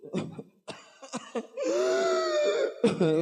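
A few sharp coughs in quick succession, followed by a strained, drawn-out vocal groan and another cough, close and fairly loud.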